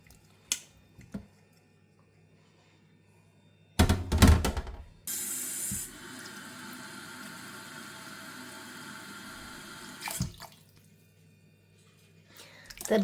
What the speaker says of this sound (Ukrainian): Зливаємо сік.